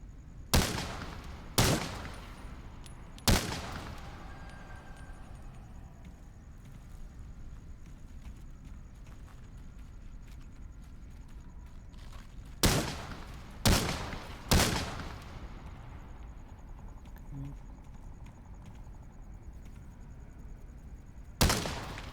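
Machine gun fire in the video game ITR2 comes as a few sharp bursts. A couple of quick shots sound early, then a longer quiet stretch follows, then another cluster of shots near the end over low ambient noise.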